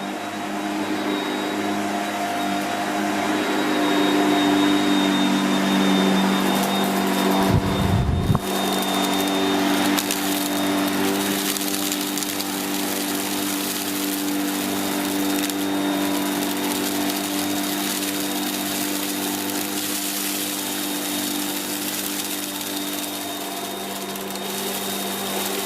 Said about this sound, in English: It can be a little bit difficult to push at times on this carpet